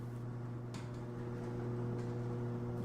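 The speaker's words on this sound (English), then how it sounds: "The garage door going up." A garage door opening in a radio drama gives off a low, steady mechanical whirring hum, faint and continuous, with no voices.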